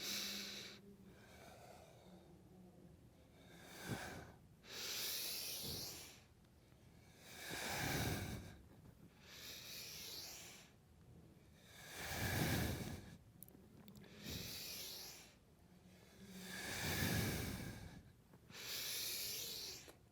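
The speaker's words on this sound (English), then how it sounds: "Big deep breaths, big exaggerated moves. Cat-cow at your own pace, breathing in and out through the nose." Slow, deep breaths drawn in and pushed out through the nose during a cat-cow yoga sequence, about four long, breathy cycles, each swelling and fading, close and fairly quiet, with no talking.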